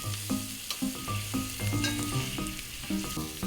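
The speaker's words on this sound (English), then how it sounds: "we will fry all the ingredients together." Steady sizzling of ingredients for sheer khurma frying in a pan, with clinks and scrapes of stirring scattered throughout; close and moderately loud, no voices.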